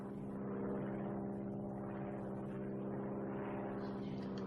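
An airplane engine at San Francisco International Airport is throttled up, producing a steady, fairly faint propeller-like drone with a slowly wavering whir throughout.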